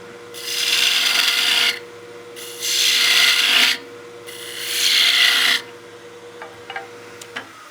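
A wooden snowman oil candle spins on a lathe as the tool shaves its top-hat shape: three separate rasping cuts of about a second and a half each, with pauses between them, then a few light clicks.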